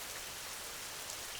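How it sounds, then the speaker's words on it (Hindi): Steady, even rain hiss falling throughout a cartoon scene, with no voices and a constant soft patter like drops on a tarp or ground. "जब बारिश रुकेगी तब घर चलेंगे।"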